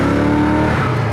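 A 1967 Ford Mustang 390 S-Code big-block V8 roars loud and close, engine revving hard with steady harmonic drone as its tiny tires roast, a brief dip and surge near the end.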